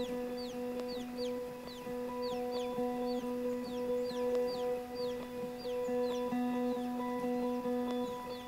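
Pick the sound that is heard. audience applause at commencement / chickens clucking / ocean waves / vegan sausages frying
chickens clucking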